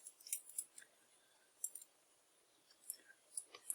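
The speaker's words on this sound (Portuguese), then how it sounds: "E agora, vou cortar o fio vinho aqui." Quiet, close snips of scissors cutting thread, a handful of crisp clicks spaced irregularly over a hushed background.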